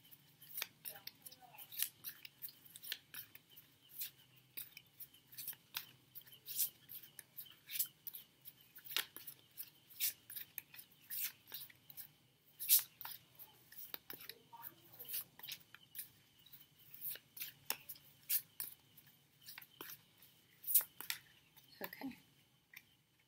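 Tarot cards shuffled by hand in a quiet room, a long run of soft, quick crisp riffles and flicks repeating irregularly, close and faint.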